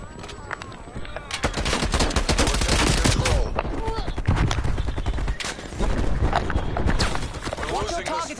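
Gunfire in the video game Call of Duty: Cold War, with continuous dense volleys of rapid shots and automatic bursts, loud and sustained, with voices faintly under the shooting.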